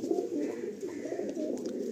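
Pigeons, a male and a black female, coo in low, rolling murmurs close by, continuous across the moment with faint rustling and no voices.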